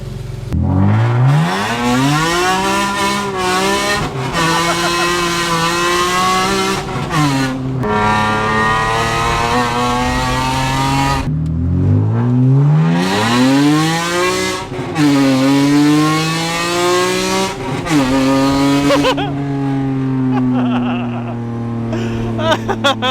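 A 2020 Toyota Supra engine revs loudly and repeatedly, climbing in pitch and dropping back, close by and sustained with only brief pauses.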